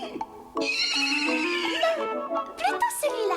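A horse in a stable gives a long, loud whinny that rises and wavers, followed by further shrill neighing near the end, with a voice speaking in the background.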